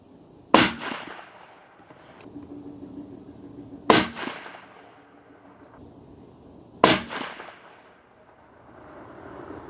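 Three loud, evenly spaced rifle shots from a Ruger American Gen 2 in 7.62x39 firing Hornady 123 grain SST ammunition outdoors, each a sharp crack with a short rumbling echo and quiet between shots.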